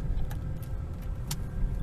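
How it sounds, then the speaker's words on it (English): A loud car is being driven, its engine and road noise forming a steady low rumble with a few brief high rattles over it, close and continuous. "my car is so loud."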